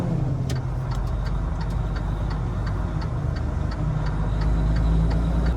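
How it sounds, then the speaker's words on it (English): Low, continuous rumble of a FedEx truck cab moving through congested city traffic near construction, with a steady turn-signal ticking over the engine drone and no voices. "Look at all this traffic, man."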